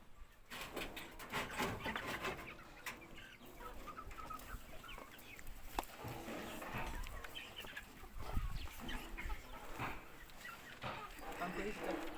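Hens in a battery cage house with feeders and nests cluck and squawk steadily for several seconds, a busy flock chorus with occasional wing flaps and scattered sharper calls.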